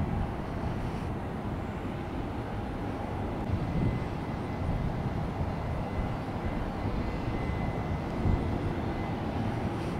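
A Frontier Airlines airplane at Tampa airport, a continuous low engine roar with a faint steady whine, constant and fairly loud throughout, with no voices.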